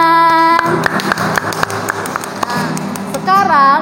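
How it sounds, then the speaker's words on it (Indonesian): Children at a school chapel service clap their hands together in a busy, uneven burst of claps and taps, with kids' voices and an adult speaking over the clapping throughout. "semuanya tepuk tangan"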